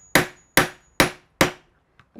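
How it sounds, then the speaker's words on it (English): A hammer strikes a grommet setting tool set on vinyl four times in a steady rhythm, each blow a sharp, close, loud knock that rings briefly, followed by a faint tap. "And then as we hammer this down,"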